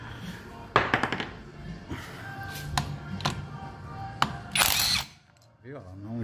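Nakasaki 620 Nm electric impact wrench spinning in short bursts, sharp whirring pulses and clicks close by, with speech between the runs.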